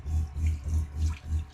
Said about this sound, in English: we got running water